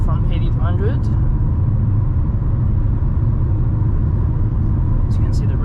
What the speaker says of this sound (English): I'm going to just push the vehicle from 80 to 100